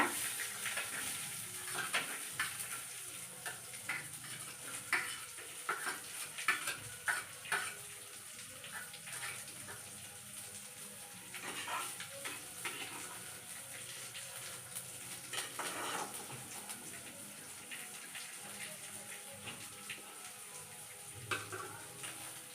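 Chopped onions sizzle in a hot tempering for curd rice, a steady soft hiss with faint crackles and occasional stirring scrapes, continuing without talk for over twenty seconds.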